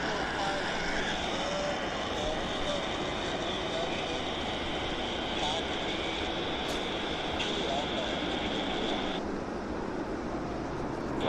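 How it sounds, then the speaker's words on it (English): A helicopter flies near Vancouver International Airport, its dense rotor and engine roar steady and close throughout, with a high whine running through it before easing slightly near the end. "Glad you guys like the helicopter"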